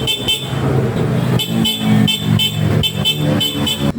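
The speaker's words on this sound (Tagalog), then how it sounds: "Ito pala yung stock niyang busina." A stock horn on a Honda Supremo motorcycle sounds in a series of short, loud, close toots, some single and some in quick pairs, with a buzzy tone and brief gaps between them.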